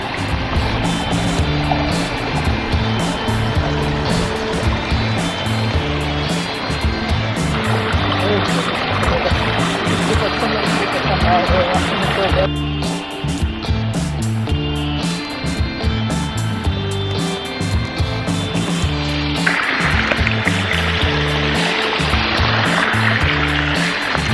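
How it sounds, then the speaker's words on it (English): A front-yard garden water feature, installed about a year and a half earlier to greet arriving guests, runs in a steady, continuous flow at close range while people talk over it. "This is a front yard water feature."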